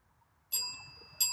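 A small bell gives two bright, ringing dings about half a second apart, each starting sharply and fading, close and clear over near silence.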